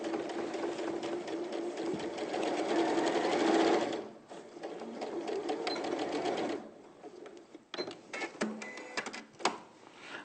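A sewing machine stitches steadily over a fabric seam, its whirring motor close and continuous, then slowing into shorter stop-start runs of stitches near the end.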